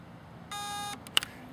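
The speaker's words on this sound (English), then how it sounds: "Heard the beep." An electronic beep sounds from an airsoft gun's mosfet while it is switched to burst mode, one steady tone of about half a second followed by a brief click-like blip, clear and close in a quiet setting.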